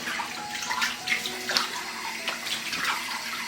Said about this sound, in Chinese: 我们现在给它清洗干净，可以多泡洗一会儿，泡去血水